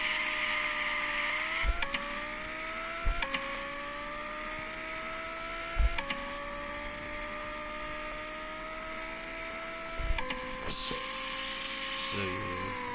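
Video game drag racing car launching and revving through its gears, a rising engine whine with sharp shift breaks every second or two, steady and fairly loud with no talk over it.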